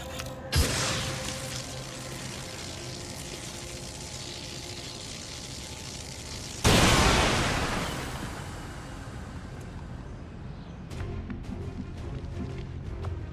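Indirect fire explodes in XCOM 2, a sudden loud burst followed by a long rumbling, crackling decay, with an earlier sharper impact and mechanical clatter around it and no talk.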